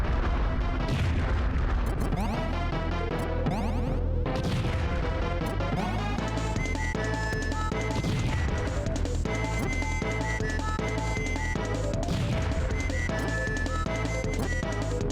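Bombs in Super Bomberman: repeated loud crashing blasts over continuous upbeat game music, one after another throughout, with no talk.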